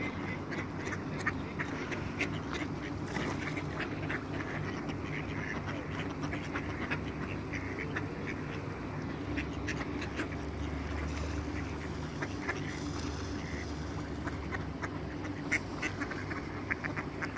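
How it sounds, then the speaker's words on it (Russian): Ducks quack while feeding on water, a busy scatter of short calls over a constant low background rumble, fairly faint and with no clear talk. "Уточки кормятся."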